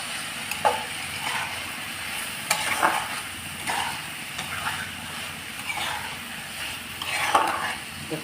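A spatula stirs veggie momo filling coated in Schezwan sauce in a hot pan, with steady scraping strokes over a soft continuous sizzle, close and moderately loud, with no voices.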